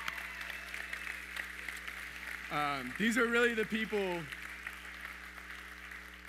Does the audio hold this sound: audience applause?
yes